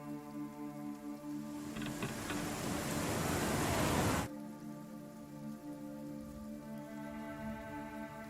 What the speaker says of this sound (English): There's just rain directly above you.